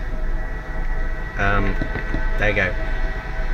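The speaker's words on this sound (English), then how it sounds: "Let's give it a moment for the train to go by, everyone." A train passes nearby as a loud, continuous rumbling roar that fills the whole stretch, while someone speaks briefly over it.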